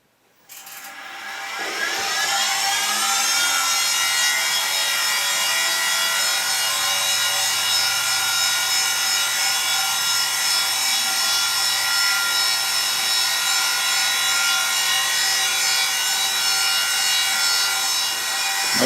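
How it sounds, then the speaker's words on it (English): A small engraving cutter in a machine cuts a groove into a miniature M1911 mainspring housing, making a sustained, close, high-pitched whine with a steady grinding edge after a brief start-up. "As you can see, the tip of my engraving cutter follows the curve of the workpiece."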